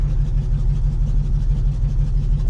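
A 1971 Dodge Coronet engine idles steadily and loudly after stalling, a low rumbling drone with a faint rhythmic lope and no talk over it.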